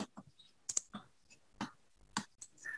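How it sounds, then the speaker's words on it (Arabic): A computer mouse clicks its left button in quiet, sharp taps, including a quick double-click, with a few scattered softer clicks in a still room and no talking. "هروح اضغط عليه ضغطتين كليك شمال"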